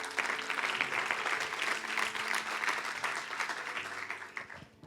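A church congregation claps together, a brisk, full burst of applause with faint organ or keyboard tones sustained underneath, fading slightly at the end.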